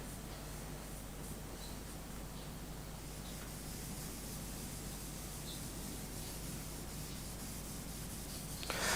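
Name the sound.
rubbing graphite onto paper for pencil shading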